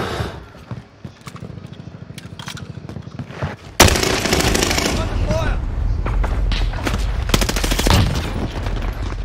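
A weapon fired from the hip in a fast-paced video game lets off rapid bursts of gunfire that swell into a loud, sustained volley in the second half, with a voice talking over part of it.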